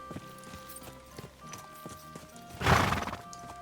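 A horse in Kingdom Come: Deliverance 2 clops its hooves steadily, then lets out a loud, close whinny near the end.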